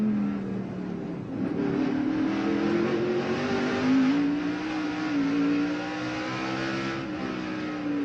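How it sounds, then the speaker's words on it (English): Onboard sound from a NASCAR stock car racing at Martinsville in 1996: a loud, continuous engine drone rises and falls in pitch as the car accelerates and slows through the short track's laps, with no talk over it. "let's watch it from the in car here. This is Kyle Petty's car"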